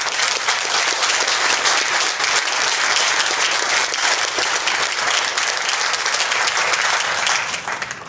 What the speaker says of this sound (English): give our heart and vascular team a round of applause for providing the very best